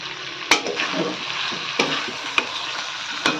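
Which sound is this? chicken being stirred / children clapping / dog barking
chicken being stirred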